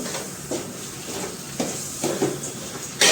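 Tomato gravy tipped into spinach in a hot pan on a home stove gives a steady soft sizzle, with a few louder stirring scrapes and clinks of the spoon and a sharp burst at the end.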